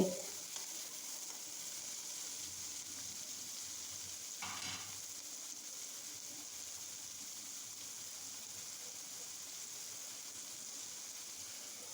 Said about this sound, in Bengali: দিয়ে এভাবে ভেজে নিব পেঁয়াজটাকে